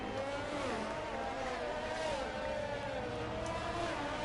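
Race cars on a formation lap in an F1-style racing game at Spain drone with a steady, continuous engine whine, dense and unbroken, with no distinct pass-bys or skids.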